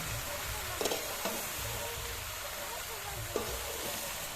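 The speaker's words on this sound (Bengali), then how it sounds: "তেলের মধ্যে ফোড়ন দিয়ে চিংড়ি মাছগুলোকে ভেজে নেওয়া হচ্ছে এবার আমি লাউগুলোকে দিয়ে দিচ্ছি" Bottle gourd and prawns fry in oil with tempering spices at an outdoor picnic, a soft, continuous sizzle broken by a few quick stirring clinks, faint and close, without speech.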